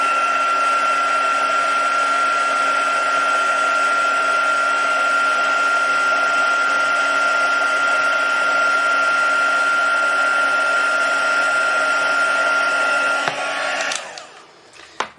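Embossing heat tool blowing hot air over embossing powder on a card, a loud steady whirring hum held for about fourteen seconds before switching off, followed by a few light clicks.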